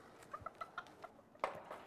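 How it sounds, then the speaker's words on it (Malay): A chicken clucks in a quick series of short, soft calls, followed by one sharper, louder squawk near the end. "hari ini cikgu bawa seekor ayam"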